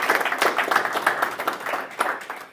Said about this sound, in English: please give a round of applause for Eric.